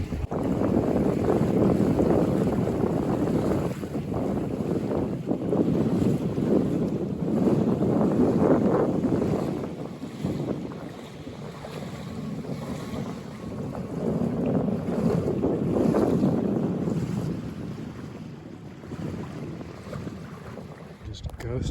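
A Buccaneer 18 sailboat ghosts along in light air on the Columbia River near Cape Horn, with steady water rush against the hull and gusty wind buffeting the microphone, rising and easing over time.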